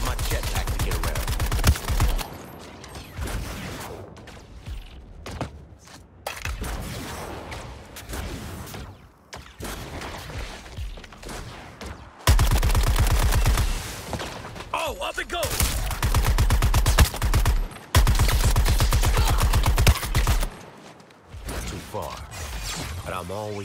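Gunfire in the video game Suicide Squad Kill the Justice League, loud bursts of rapid shots separated by quieter stretches and short gaps, with mechanical clanks between volleys.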